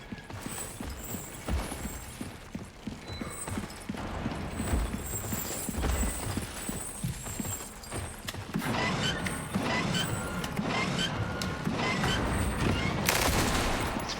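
Rapid gunfire in a horror video game as boxes are shot, dense bursts of sharp cracks and mechanical clatter layered over game noise, growing busier and louder toward the end.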